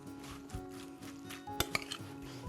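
A spoon stirs pickled tongue salad with sour cream and parsley in a bowl, soft scraping strokes punctuated by a few sharp clinks of metal against the dish, close and fairly quiet.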